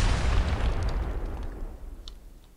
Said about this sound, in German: Wieso ist das hier gerade explodiert?